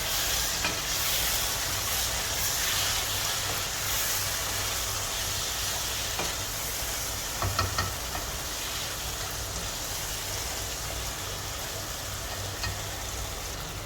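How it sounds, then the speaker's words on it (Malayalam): Biryani masala with mint and cumin fries and is stirred in a pan for Hyderabadi egg dum biryani, giving a steady, loud, close sizzle throughout with a few faint scraping clinks of the spoon and no talking. "നന്നായി മിക്സ് ചെയ്തെടുക്കാം"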